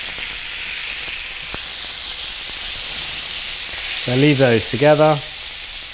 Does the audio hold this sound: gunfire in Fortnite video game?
no